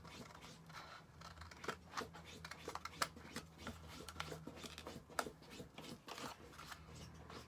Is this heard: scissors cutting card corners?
yes